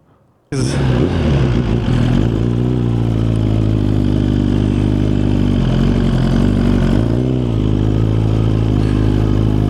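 A Suzuki GSX-R1000 motorcycle engine fires up abruptly and runs loud and close, a steady throbbing rumble with a couple of brief dips in revs, on a chilly day.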